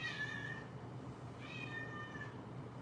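A house cat meows twice, indoors and at moderate distance: a drawn-out cry, a pause, then a second similar call, with no one talking over it.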